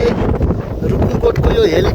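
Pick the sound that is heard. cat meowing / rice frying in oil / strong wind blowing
strong wind blowing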